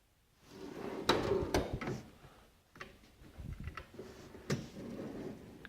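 Drawers slide open and shut several times at close range, with sharp knocks and rattles amid quieter rummaging.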